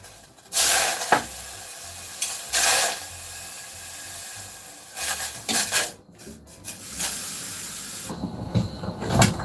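A spoon scraping and stirring freshwater shrimp soup inside a pot in irregular bursts, with soft sizzling and rubbing noises between strokes, close and fairly quiet.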